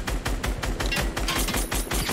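Rapid automatic gunfire in a video game is aimed at a helicopter, a loud, close, steady rattle of shots from start to finish.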